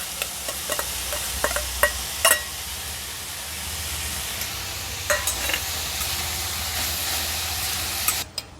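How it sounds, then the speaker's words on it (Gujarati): Corn kernels tipped into a pan of vegetables cooking for a vegetable frankie, giving a steady sizzle with a few sharp stirring clatters near the start and a couple more toward the end, no talking. "હવે મકાઈના દાણા નાખી દઈશું"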